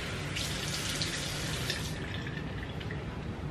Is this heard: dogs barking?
no